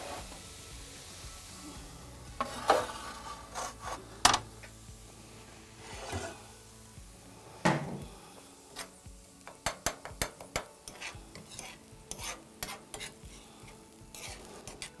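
Onions and peppers fry in a pan during wood-fired cooking. A soft sizzle runs underneath while sharp utensil scrapes and clacks from stirring come at irregular intervals, growing busier toward the end.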